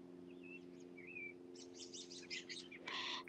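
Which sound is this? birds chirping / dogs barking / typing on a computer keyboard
birds chirping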